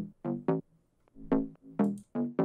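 A layered tech house bass built in FL Studio with distortion and an equalizer cutting the lows plays a choppy pattern of short, punchy notes with brief gaps, alone and with no talk.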